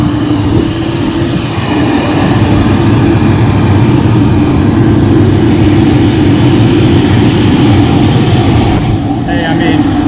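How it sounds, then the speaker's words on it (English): Loud, steady low engine roar filling the whole stretch, like a plane's engines droning in the cabin, with people talking over it. "this is the plane we die on, Jake."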